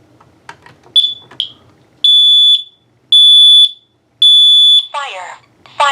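A Kidde Nighthawk and Kidde KN-COSM-B smoke and carbon monoxide alarm sound during a home test. Short chirps are followed by three loud, piercing, evenly spaced long beep bursts, then an electronic voice begins at the end.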